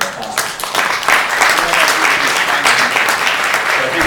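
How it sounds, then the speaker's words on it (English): Loud, close audience applause for sponsors at a tech conference, dense and continuous, building after a quieter opening second with some crowd noise mixed in. "a big round of applause for our sponsors"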